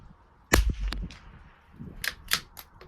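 Tikka T1X or Savage MKII BTV rifle firing at a 100-yard range: one sharp near shot with a short echo, followed by fainter distant cracks from other shooters.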